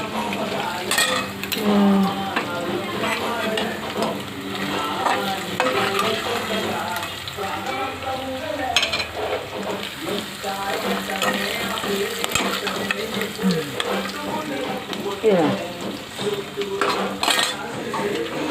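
Fish frying in a pan sizzles loudly and steadily up close, with frequent clinks and scrapes of a utensil against the pan running throughout.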